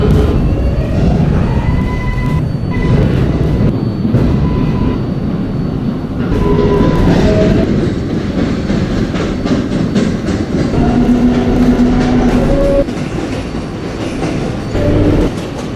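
A subway train on the 7 Flushing Line in a Roblox game runs along the track with a loud, continuous rumble and rhythmic clatter, with brief tonal whines and squeals rising and fading.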